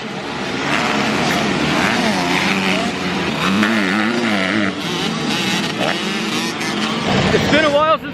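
Motorcycle on a race track, likely a 50cc youth bike, rides past with a rising and falling engine whine that swells as it nears, loud and continuous over roughly eight seconds, with people talking over it.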